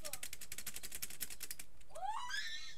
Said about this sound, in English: I mean, hear the keyboard.